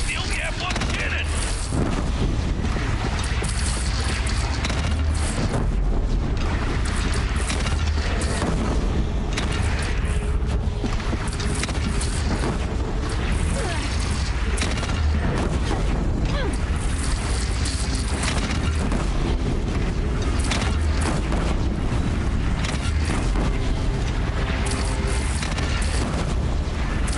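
A constant barrage of cannon fire, gunfire and explosions in the Horizon Zero Dawn video game fills a loud, dense battle, with shouting voices mixed in throughout.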